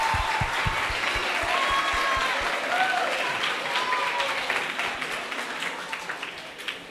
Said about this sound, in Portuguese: Palmas para Andréia.